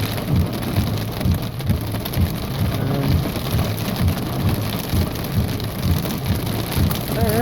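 Heavy rain pours in a strong thunderstorm with pea-sized hail in Reno, Nevada. A loud, steady wash of rain runs throughout, with no voices.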